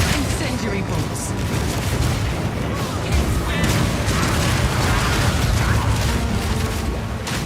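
Crossbow bolts fire and burst in Path of Exile 2 combat, a continuous, dense barrage of booming impacts, mechanical clatter and crackling blasts, with someone talking throughout.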